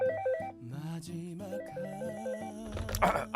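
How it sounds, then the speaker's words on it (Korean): A telephone rings in a Korean radio comedy drama, playing a bright electronic ringtone melody of repeating notes, moderately loud and steady, with a brief burst of extra noise near the end. "전화나 받아봐요."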